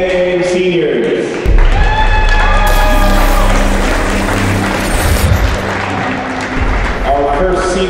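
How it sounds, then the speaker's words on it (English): A crowd in a school gym cheers and claps for senior players on senior night at a boys varsity basketball game, with amplified announcer talk and deep rumble mixed in and the applause swelling under it. "please give a large round of applause for all of your Mustang seniors"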